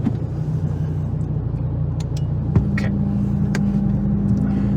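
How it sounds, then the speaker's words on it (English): An Audi TT RS Mk1 with the CEPA engine and an upgraded intercooler runs on a dyno, giving a loud, steady rumbling drone with a rising whine and a few sharp clicks throughout. "On the dyno we are going to make 5 pulls after each other"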